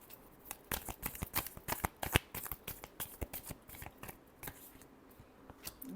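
Tarot cards are shuffled close up, giving a quick run of crisp riffling slaps and flicks in an irregular rhythm, fairly quiet with no talking.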